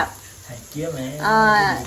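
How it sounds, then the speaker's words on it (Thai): Chicken sizzles on a Thai tabletop grill pan, a soft steady frying hiss with a voice rising over it near the end. "เอาซื้อไก่แล้วก็มาย่าง เป็นแบบไก่กระทะแบบนี้นะคะ"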